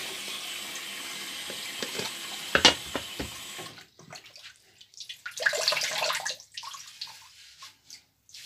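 Tap water running into a sink before a wet shave: a steady close splash that stops midway, followed by a few fainter, irregular splashes and drips.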